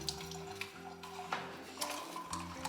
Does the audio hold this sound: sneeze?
no